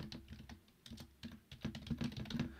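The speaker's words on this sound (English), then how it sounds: "I'm going to actually link to it by typing it in." Rapid, irregular keystrokes on a computer keyboard as a web address is entered, a steady close clatter of clicks running throughout with no talking.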